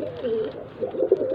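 Breeder pigeons being sent to Sialkot give a soft, low cooing, a few short rounded coos close by in a quiet setting.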